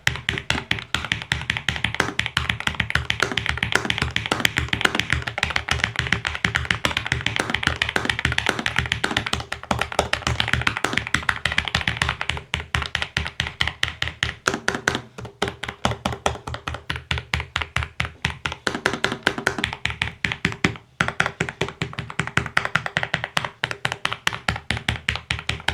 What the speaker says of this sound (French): On termine ici ces tests avec une frappe forte.